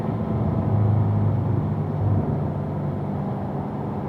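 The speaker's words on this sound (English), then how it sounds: "Accelerating straight down, a little drag of the brake." Race car engine droning steadily on a track at a performance driving school, a loud, continuous low rumble holding near-constant pitch through the clip with no clear braking sound standing out.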